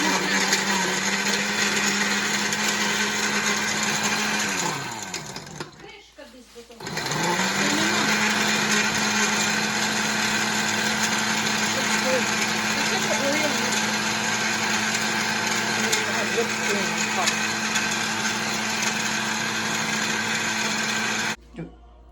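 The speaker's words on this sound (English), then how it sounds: "2 ice cubes, and you're ready to blend." A blender whirs loudly and steadily as it mixes an Oreo milkshake with ice cream and two ice cubes. It cuts out briefly, then spins back up and runs continuously before stopping.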